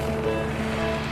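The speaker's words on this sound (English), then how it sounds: "This rough water before we get to the harbor." Rough open water churning against a small boat on the approach to a harbor, a steady close wash of waves and wind with no clear individual impacts.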